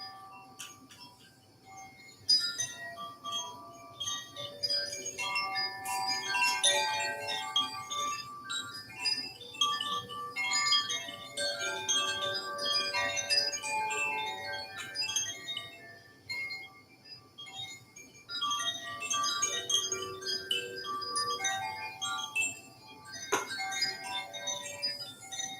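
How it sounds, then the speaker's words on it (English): Metal chimes ring close and steadily at the end of a shamanic teaching, bright overlapping tones shimmering and decaying in loose clusters with brief lulls, and no talking. "I will end with some chimes"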